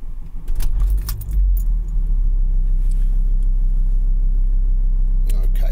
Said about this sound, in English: So all I'm going to do is I'm going to start the car